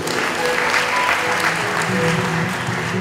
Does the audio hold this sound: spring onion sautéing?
no